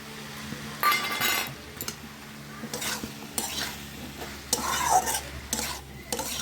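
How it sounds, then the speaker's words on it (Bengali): Cauliflower and potato curry stirred in a pan just after yogurt goes in, a spoon scraping and clinking against the metal in repeated bursts over a soft sizzle, close by and without talk. "সব কিছু নাড়াচাড়া করে মিক্স করে নিয়ে তারপরে দেখব।"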